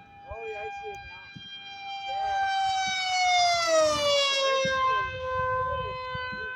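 An emergency vehicle siren wails with rising and falling sweeps, growing louder as it approaches, heard outdoors with voices talking over it.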